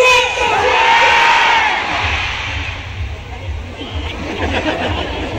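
A large outdoor music-festival crowd at the Aurora Music Festival shouts and cheers loudly, swelling at first then settling into a dense babble of voices and yells.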